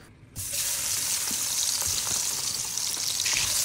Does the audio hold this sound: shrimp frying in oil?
yes